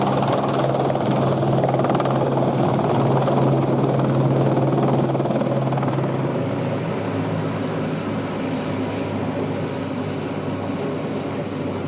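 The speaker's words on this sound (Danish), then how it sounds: "The helicopter was, as I see it, a little wrong." A helicopter flies, producing a steady, loud rotor and engine drone that holds throughout and eases slightly toward the end, with no voices over it.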